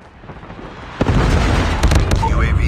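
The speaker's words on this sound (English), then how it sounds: "Hostile predator missile inbound." A predator missile strike in Call of Duty Mobile hits with a sharp, loud blast after a low rumble, followed by a sustained roaring boom and a couple of further crackling bursts, with a brief tonal game cue at the end.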